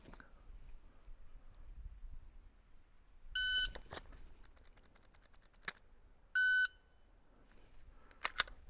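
Two short electronic shot timer beeps a few seconds apart, with sharp clicks and clatter between and after them in a quiet space.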